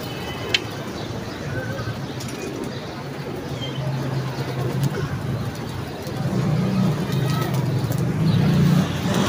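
Pigeons coo in low, murmuring bursts that swell toward the end, over outdoor background noise with people talking nearby.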